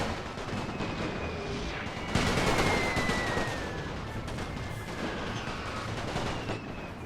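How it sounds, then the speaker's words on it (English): Distant artillery and machine gun fire in the World War I strategy game The Great War rumbles on continuously, with a heavier burst partway through and softer crackling gunfire under the steady noise. "My artillery isn't really hitting those guys as much as I thought they would. My machine gun is still there."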